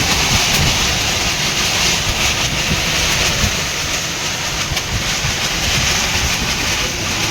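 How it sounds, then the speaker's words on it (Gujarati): Strong wind roars through a village during a cyclone storm, a loud, constant rushing gust with rumbling buffeting on the microphone and no voices. "બહુ પવન."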